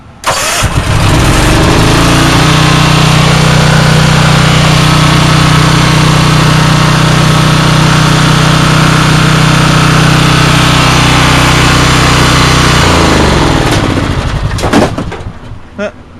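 A 4 kW generator engine cold starts and settles into a loud, steady drone while running on choke, holding a constant pitch for around thirteen seconds before shutting down, with a few clanks after it stops.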